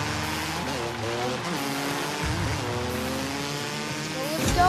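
A car drifts in a video game with a continuous engine drone and shifting revs that swell near the end, while a voice speaks briefly over it.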